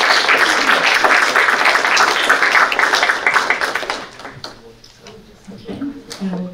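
A town board candidate forum audience applauds in a loud, dense wash of clapping that fades after about four seconds, leaving scattered claps and a voice speaking nearby.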